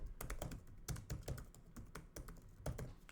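Someone types an email address on a computer keyboard, a quick, uneven run of soft, close key clicks with short pauses between bursts.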